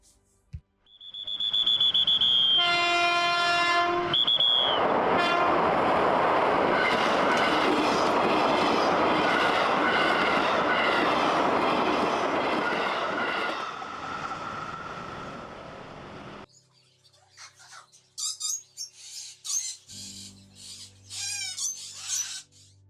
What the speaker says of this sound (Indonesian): Di antara bising rel yang tak pernah tidur